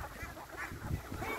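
Native village ducks on a rural duck farm quacking together, a close, busy chorus of overlapping nasal calls filling the short moment with no talk.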